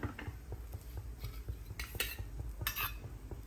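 Paratha on a hot tawa at a roadside stall is flipped and oiled, giving quiet scraping and clinking of a metal utensil against the pan, with a faint low rumble in the background.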